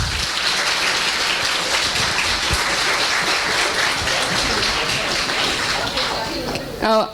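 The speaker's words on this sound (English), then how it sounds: "So please give them a big round of applause" Applause for teachers at an MBBS White Coat Ceremony fills the hall as a steady, dense wash of clapping for about seven seconds, tapering slightly near the end.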